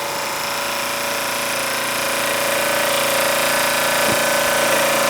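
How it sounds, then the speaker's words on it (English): A Wormar Trojan Model D model steam engine runs at a fast, even rate and gives off a steady whirring, chattering drone. It stays close and loud with a slight rise in level and no talk. "Mr. Jenkins knew his stuff when it came to some model steam engines"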